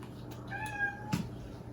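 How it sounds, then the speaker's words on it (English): A single drawn-out cat meow, close and clear, rising and falling over a low steady background hum. "that is my cat Loki."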